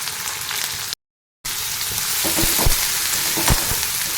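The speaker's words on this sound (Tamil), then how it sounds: "கொஞ்சம் வதக்கிக்கலாங்க ரொம்ப வதங்கணும்னு அவசியம் கிடையாது கொஞ்சமாக வதக்கிக்கலாம்" Onion and grated ginger sauté in a pan with a bright, continuous sizzle and frying crackle, broken by a brief silent gap, then resuming with close stirring clicks and scrapes.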